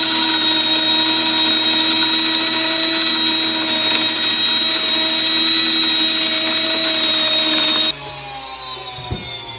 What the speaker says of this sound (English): I'm going to go ahead and grind some more wheat and add it to it.